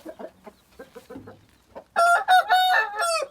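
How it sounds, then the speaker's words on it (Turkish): Turkey chicks chirp and peep in quick high calls that come in a loud cluster after a stretch of softer scattered sounds. "Yeni Hint civcivleri geliyor."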